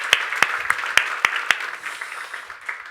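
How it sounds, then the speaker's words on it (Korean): Congregation at a youth prayer gathering in Ho Chi Minh City clapping in a church hall: about six sharp, loud, evenly spaced claps stand out over a softer scatter of hands that thins and fades toward the end. "우리가 드릴 수 있는 최고의 박수로 그 하나님께 영광의 박수 올려드리도록 하겠습니다"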